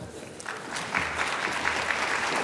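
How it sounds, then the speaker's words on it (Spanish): An audience at an annual scientific conference on metabolic syndrome claps to welcome a speaker, the applause building quickly and staying full and close. "les pido un fuerte aplauso"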